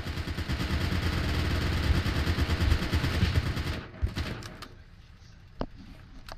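Machine gun fire in the war game Foxhole rattles in a dense, rapid stream for several seconds, then stops abruptly, leaving a few scattered distant shots.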